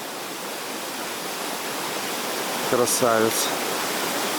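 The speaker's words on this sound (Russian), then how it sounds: "Вот такой водопад, и водичка, и лед," A waterfall on a stream in Crimea, among ice and stalagmite formations, makes a steady broadband rush close by, with someone briefly speaking over it.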